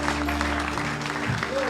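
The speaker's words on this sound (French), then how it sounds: "Acclame pour l'Esprit de Dieu." A church congregation at a prophetic service applauds in a brief, dense burst of clapping, with voices mixed in under the clapping.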